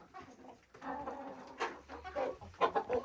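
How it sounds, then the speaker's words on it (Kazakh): Australorp hens in a chicken coop give soft, intermittent clucks and short squawks, faint and fairly close in a quiet setting, with no talking. "Ана өзіміздің австралоп."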